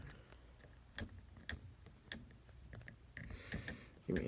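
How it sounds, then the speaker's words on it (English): The timer dial on a Roper washing machine is turned back, giving a series of sharp, separate clicks at irregular intervals, close and fairly quiet against a soft background. "And I'm gonna turn the dial all the way back to."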